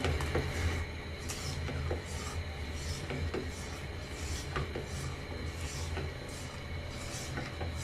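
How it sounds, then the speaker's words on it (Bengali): Sugar is stirred constantly in a pan on high heat as it melts for coconut pudding, a steady rubbing scrape of a spoon on the pan with soft clinks, close and continuous, no voices. "আমি অনবরত নাড়তে থাকবো যে পর্যন্ত চিনিটা গলে না যায়।"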